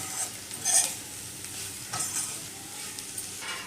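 Bottle gourd peel fry being stirred and mixed in a pan, giving a soft, steady scraping and sizzling texture with a few brighter stir strokes, close and fairly quiet, with no one talking.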